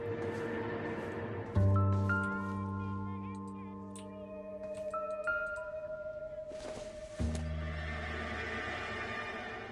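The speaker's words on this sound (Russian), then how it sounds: "Конь." A horse neighs loudly up close in the L.A. Noire game world, a long whinny with strong harmonics, followed by a second call a few seconds later over a steady background hum.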